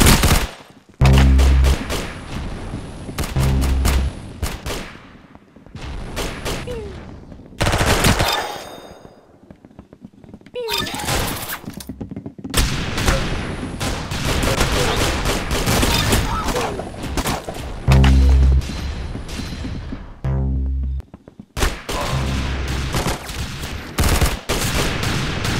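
Rapid bursts of automatic gunfire from a first-person shooter game, loud and close, coming in repeated volleys separated by short gaps, with booming low impacts and sharp crackling shots over about twenty-five seconds; a voice talks at times underneath.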